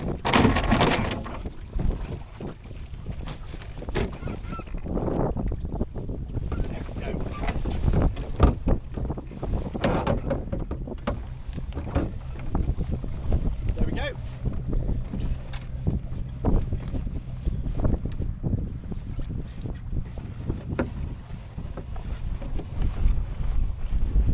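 Wind rushes over a Drascombe Lugger dinghy under sail, with heavy, continuous wind buffeting and flapping. Water and hull noises run underneath throughout.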